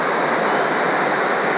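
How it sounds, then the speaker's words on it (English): Steady, full rush of water from a waterfall pouring through rocky Pine Creek gorge in Montana's Absaroka Beartooth Mountains, a constant close roar with no breaks and no talking. "See, water goes right down that gorge."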